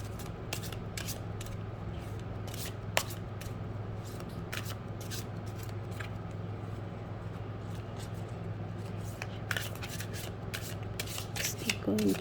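Tarot cards being shuffled by hand, repeated soft riffling and sliding rustles in irregular bursts over a low steady hum, close and moderately loud.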